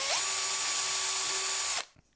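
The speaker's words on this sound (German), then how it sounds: "Nee, ich bohre erst vor." Cordless power drill pre-drilling pilot holes for screws in wood with a small 2 mm bit while building a doweling jig, a steady loud high whine running close for nearly two seconds before stopping abruptly.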